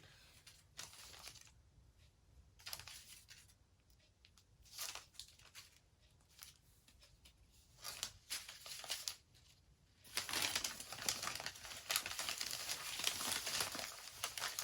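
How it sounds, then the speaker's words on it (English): Paper crinkles and rustles in bursts as a plant is laid down and wrapped in a large sheet for shipping, close and fairly quiet, growing into a louder steady crumpling near the end. "I have my bigger sheet of paper, and similarly, I'm just going to lay the plant down."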